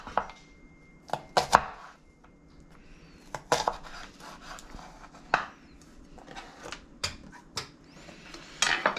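A knife slicing onion thinly on a cutting board for a Vietnamese green mango salad, sharp close chops in irregular bursts with quiet gaps between, no talk.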